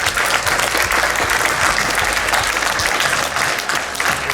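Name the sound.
audience applause at conference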